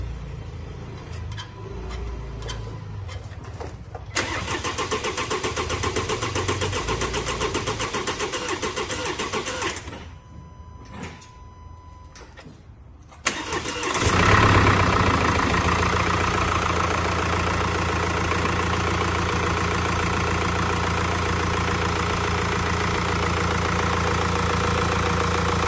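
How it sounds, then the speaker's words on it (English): A 2017 Mercedes E-Class with a 2.0L engine after a timing chain replacement: quiet at first, a brief starter crank, then the engine catches and settles into a loud, steady idle close to the microphone. "we're gonna start the engine now."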